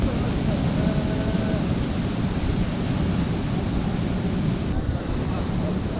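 Ocean surf rolls steadily onto a beach in Bali, a dense continuous wash of breaking waves with wind buffeting the microphone throughout.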